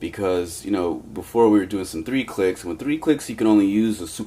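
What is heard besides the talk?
No everyday noise stands out behind the speech.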